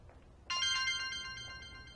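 A mobile phone rings in a room, starting abruptly with a bright repeating ringtone pattern that keeps going steadily and alone for over a second.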